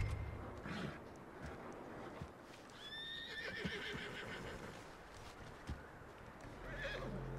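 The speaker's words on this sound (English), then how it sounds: "Approach the horse." A horse in the video game Red Dead Redemption 2 lets out a clear, high whinny in the middle, with faint hoof clops and a soft ambient background around it.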